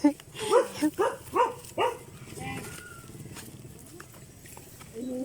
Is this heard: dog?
yes